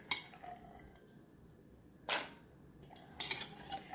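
Soaked black mochai beans, a hard honey bean for sundal, are dropped into a pressure cooker in a kitchen, giving a few sharp metallic clinks and rattles separated by quiet pauses.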